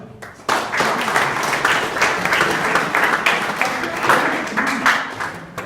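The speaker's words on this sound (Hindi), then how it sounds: "ताली बजाओ जोरदार।" Loud, dense applause from a school crowd in Uttar Pradesh, India, steady and sustained for several seconds after a brief quiet start.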